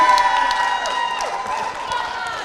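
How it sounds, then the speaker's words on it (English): Dense applause and crowd cheering fill the space, a steady wash of many hands clapping with occasional whoops rising over it. "Let me hear a big round of applause for Jason."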